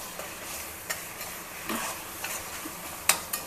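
Ginger garlic paste being stirred and fried for a home-style potato curry, a soft continuous sizzle broken by several light scrapes and clicks of a spoon against the pan, with a sharper knock near the end.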